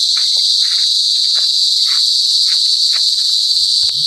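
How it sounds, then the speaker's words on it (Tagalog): Many crickets chirping outdoors on a mountain hike, a dense, loud, continuous high trill with scattered faint rustles and footsteps. "Daming kuliglig dito guys."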